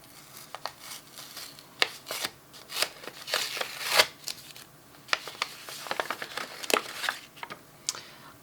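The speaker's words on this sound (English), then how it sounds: "Let's open these ones first because these are the stamps and the washi tape." Packages of stamps and washi tape are opened up close, giving irregular crinkling, tearing and rustling bursts of plastic and paper with brief pauses between them.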